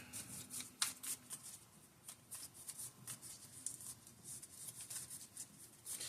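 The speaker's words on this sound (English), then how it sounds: "So we're going to shuffle up." A deck of cards shuffled during a tabletop card game: quiet, close riffling and rustling bursts repeating in an irregular rhythm, with soft handling noises between them.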